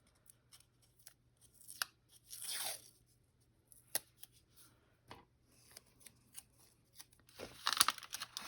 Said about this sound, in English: I am going to go ahead and put some masking tape on that as well